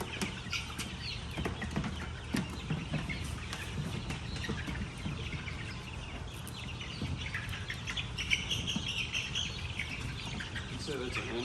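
Young Leghorn chicks, a copper brown and copper maroon mix, chirp in quick high peeps near their brooder amid a thunderstorm, with people talking over the steady stream of calls.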